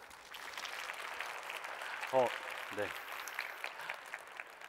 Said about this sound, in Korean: 박수로 강연 시작하도록 하겠습니다